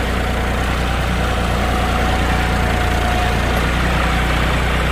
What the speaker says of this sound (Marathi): डिझेल लय खातं वाटतंय ट्रॅक्टर